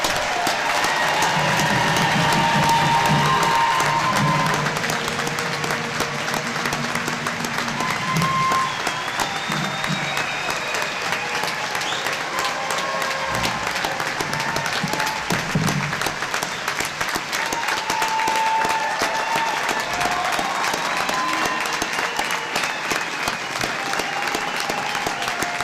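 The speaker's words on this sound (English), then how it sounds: "Please join me in giving all our graduates a well-deserved round of applause." Sustained applause from the crowd at a spring quarter graduation ceremony, dense and even for about twenty-five seconds, with faint cheering and a murmur of voices mixed in.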